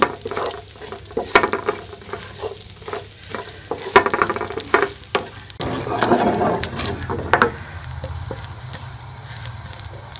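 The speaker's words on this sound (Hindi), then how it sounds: "इसका जो है तड़का तैयार कर लेंगे।" Cumin seeds and whole red chillies sizzle and crackle in hot ghee for a tadka, a close, busy frying hiss with sharp pops that stirring breaks up, fading toward a quieter sizzle near the end.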